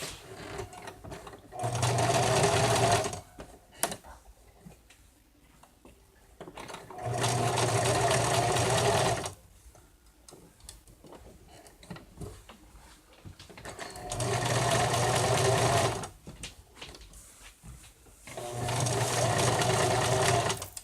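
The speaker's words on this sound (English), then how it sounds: "So we shall start sewing the top of the head on." A sewing machine stitches the top of a stuffed bear's head in four steady bursts of a few seconds each, with quiet pauses between them where fabric is handled nearby.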